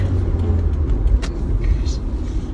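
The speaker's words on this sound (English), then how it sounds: "Oh, you guys can see the traffic." Road traffic rolls past in a steady, close low rumble of car engines and tires, continuous for the whole moment with small swells and no break.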